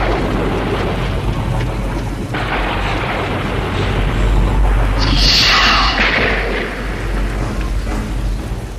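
Steady heavy rain pours throughout, with a rumble of thunder swelling in the middle and then fading, loud and close.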